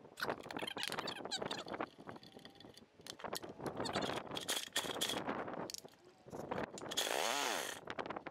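An old Briggs & Stratton 2 hp small engine runs close by in loud, uneven bursts, surging and dropping as it catches and sputters.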